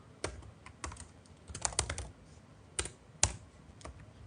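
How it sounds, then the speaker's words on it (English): Sparse keystrokes on a computer keyboard, close and quiet, coming in irregular clusters of taps with short pauses between them and no talking. "I am just typing something, just wait for a second or some time"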